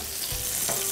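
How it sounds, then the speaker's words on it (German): Olive oil and butter sizzle in a heated pot for tomato soup, a steady broadband crackle with two soft low thumps of stirring or utensil contact, fairly close and with no voices. "Jetzt habe ich bereits einen Topf erhitzt und kann da einen Esslöffel Olivenöl gemeinsam mit der Butter reingeben."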